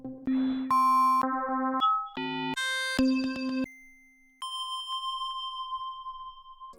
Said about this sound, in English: and just find a cool sounding bell.